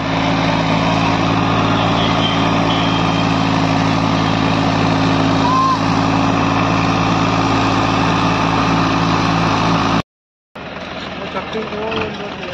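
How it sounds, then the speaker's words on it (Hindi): Massey Ferguson 8055 tractor pulling a new 9x9 harrow in a field: a loud, continuous diesel engine drone with steady low hum, cut off briefly by a dropout near the end before resuming. "मैसी अस्सी पचपन नौ नौ की अठारह हैरो है बिल्कुल नई आज पहली बार इसमें चलाई है"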